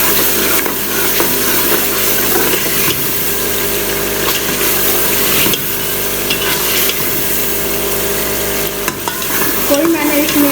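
Green chilies slit down the middle sizzle and fry in an onion masala with no garlic or ginger, with steady stirring scrapes in the pan over a continuous loud frying hiss and no talking.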